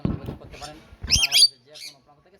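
Lory parrots give a short burst of harsh, high squawks right after a voice speaks, then fall quiet.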